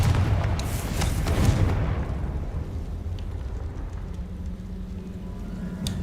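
A Confringo spell blast in the Hogwarts Legacy video game, a loud, deep boom that rumbles and slowly fades into a quieter hum, with no talking.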